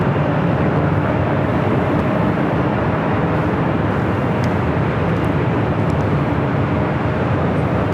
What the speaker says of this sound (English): Our next arrival here on the north side is Alaska Airlines flight 1092 coming in from Seattle, 737-900 ER.